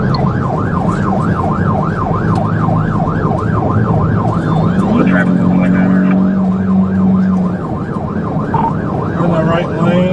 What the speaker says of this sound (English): driver, later identified as Jennifer Wilson, kept going, ignoring lights and sirens.